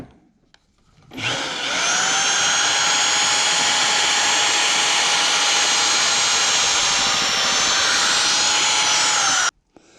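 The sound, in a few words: drilling a hole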